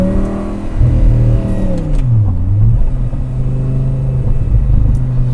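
Audi R8 engine revving hard toward the red line, a loud, close mechanical roar that climbs in pitch, dips briefly, then holds a sustained high-rev drone with no talking.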